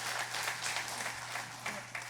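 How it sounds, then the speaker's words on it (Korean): An audience claps at a Korean Buddhist dharma service, a dense, fairly quiet wash of applause with a faint steady hum beneath it. "박수."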